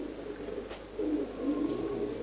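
A pigeon, a female bird from a fancier's flock, coos in low, soft rolling phrases that swell after the first second and carry on steadily, fairly close, with no voices over them.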